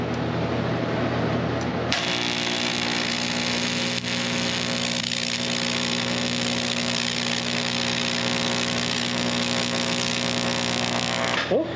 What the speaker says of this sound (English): this is the Miller DialArc 250 aluminum TIG test